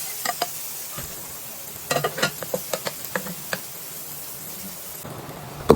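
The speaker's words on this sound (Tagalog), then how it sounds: "magigisa na tayo dyan ng aromatics natin na bawang, sibuyas at saka kamatis" Garlic, onion and tomato sautéing in oil for pork mechado, giving a steady close sizzle with a series of scraping stirs partway through.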